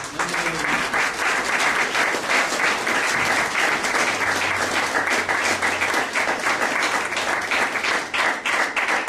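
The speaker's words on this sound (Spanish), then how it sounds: "Un aplauso para el Rey de Reyes." A church congregation breaks into strong, continuous applause during a worship service, a thick, steady wall of clapping from many hands that stays loud for about nine seconds.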